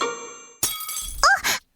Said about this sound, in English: We've broken Mom's glass by accident!